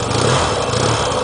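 A 1983 Yamaha XS650 Heritage Special motorcycle engine idles cold at around 1,000 RPM, a loud, close, steady throbbing rumble with no voices.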